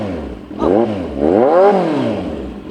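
A Kawasaki Z1000 big bike's engine revs up twice in rising and falling sweeps, loud and close, settling into a steady idle between and after the revs.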